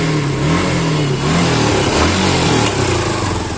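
A Suzuki Gixxer motorcycle engine, checked after a bad engine noise was fixed, revs loudly up and down nearby, its pitch rising and falling in smooth sweeps with no talking.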